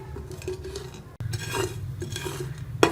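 Whole spices roast over low heat in a pan while a spoon stirs them, giving close scraping and rattling with small clinks against the metal and a soft sizzle beneath.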